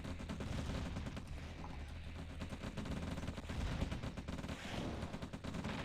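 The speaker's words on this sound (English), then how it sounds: "Knew I heard shooting." Rapid, dense gunfire and bursts of shooting from a C&C Red Alert battle, continuous and loud throughout with overlapping shots and no talk.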